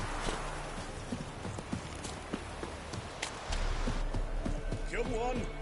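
Witcher 3 horse Roach's hooves clip-clop steadily on the ground in the game, a regular beat that stays up close under a busy mix of background game sound.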